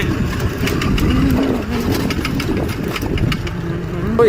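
A motorbike rides along a village road with a steady, close engine drone that stays at an even level throughout.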